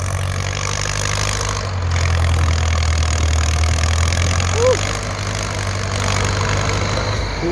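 A Ford tractor pushing soil to level ground runs with a steady, loud, low engine drone that stays close and constant, and its pitch shifts slightly midway as the load changes.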